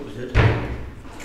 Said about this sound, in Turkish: Kendiliğinden kapı kapanabiliyor.